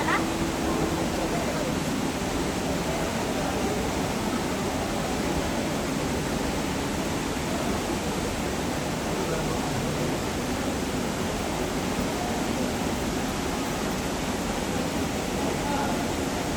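Davies waterfall in Pokhara, Nepal, heard from inside a cave: a dense, steady rushing roar of falling water, constant and loud throughout.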